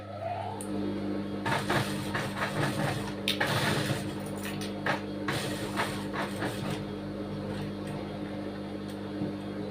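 A sewing machine runs steadily, putting a stitch along the back pot neck of a blouse, with a constant motor hum and a dense, fine mechanical rattle that swells and eases in short runs.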